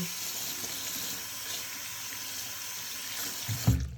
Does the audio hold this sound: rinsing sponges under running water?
yes